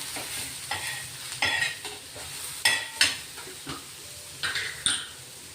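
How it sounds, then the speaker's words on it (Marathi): Two or three long-sliced onions for shahi paneer masala sizzle softly in a pan. Intermittent spatula scrapes and stirring clinks come every second or so, and no voice is heard. "2-3 कांदे कापलेले लांब असे काप करून घेतले, ते आपण आता भाजून घेणार आहे बघा."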